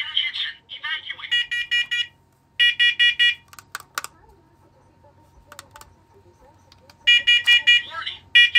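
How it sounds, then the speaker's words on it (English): A linked smoke alarm in a kitchen sounds repeated bursts of shrill electronic beeps, alternating with a synthetic voice warning about smoke and telling people to evacuate. Loud and close, with short silences between bursts. "Warning. Evacuate smoke in kitchen."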